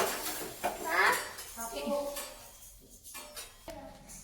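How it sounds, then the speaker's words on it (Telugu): Fenugreek seeds being dry-roasted in a pan for mango pickle, with a metal spoon clattering and scraping against the pan in quick irregular bursts, close by, and a voice heard briefly. "ఇప్పుడైతే మెంతులు కూడా ఎంపుతున్నా"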